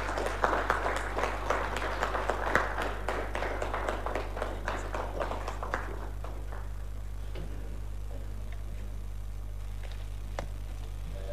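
Audience applause after a speech at a governance and human rights workshop, clearly audible claps for several seconds that thin out and fade to scattered taps, leaving a low electrical hum.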